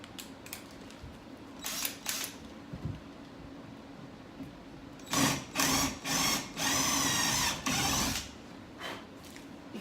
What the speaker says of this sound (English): now I'm gonna take the larger drill bit and drill into the wood.